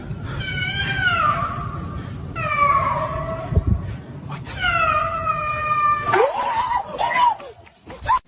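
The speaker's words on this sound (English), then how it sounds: "A dog that sounds like a cat waiting in the dark" Drawn-out, wavering cat-like yowls repeat several times, close and clear, followed by a rising, squealing cry near the end.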